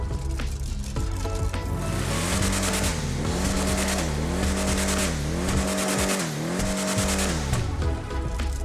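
Custom car in a video game sound test, engine and exhaust revving loudly in rising and falling sweeps with racing tone, accompanied by tire squeal, no talk.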